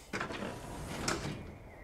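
A door in the video game Fallout 76 shutting with a short wooden clunk and a sliding mechanical rumble, followed by a second knock about a second later, fairly quiet and close.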